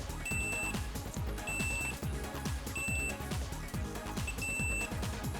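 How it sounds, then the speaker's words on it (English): A multimeter's continuity buzzer sounds in four evenly spaced beeps, each lasting about half a second, heard close over a busy, rhythmic background. "Having a continuity buzzer is really helpful, and you'll find a lot of the cheap meters do have them."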